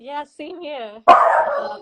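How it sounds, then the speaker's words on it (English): A pet dog gives a single sharp bark at the end, close and loud, cutting in just after someone speaks briefly. "that's my dog"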